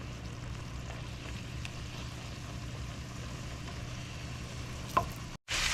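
Philly cheese steak meat fries in a pan with a steady, close hiss of sizzling grease while it is broken up and stirred, with a small clatter just before the sound cuts off.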